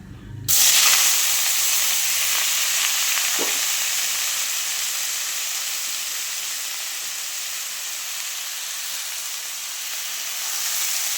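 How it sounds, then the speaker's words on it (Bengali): Potatoes dropped into hot oil in a wok burst into a loud, steady sizzle that starts abruptly and hisses on continuously, easing slightly before swelling again near the end. "তো কড়াইতে আলুগুলি দিয়ে দিচ্ছি।"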